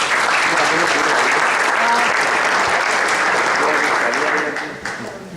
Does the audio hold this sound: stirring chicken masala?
no